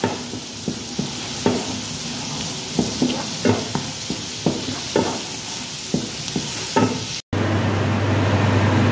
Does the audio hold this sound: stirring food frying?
yes